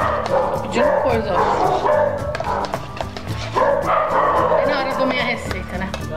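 Dogs yap and bark in repeated bursts near a home kitchen during the making of mashed potatoes, with whining in between, all mixed under people speaking.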